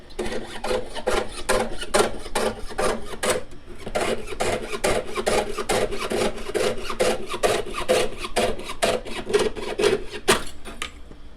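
Rhythmic hand sawing, brisk back-and-forth strokes repeating steadily and up close while cutting out a jewelry prong setting, with a short pause partway through.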